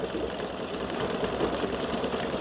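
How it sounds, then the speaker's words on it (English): An embroidery machine stitching the outline of a clover on a St. Patrick's Day hat design, a steady rapid mechanical chattering hum, close and continuous. "it's just going to go around and stitch around the"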